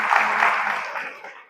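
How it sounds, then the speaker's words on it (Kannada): Applause from an audience at a patriotic public speech, a brief burst of many hands clapping that swells and then fades out within a second or two. "ನನಗೂ ಹಿಂಗೆ ಚಪ್ಪಾಳೆ ಹೊಡಿಬೇಕು ಅನ್ನಿಸ್ತು"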